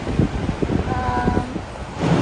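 Steady wind buffets the microphone in a continuous rumbling rush on a sunny day in Tung Chung, Hong Kong, with faint outdoor noise and no speech.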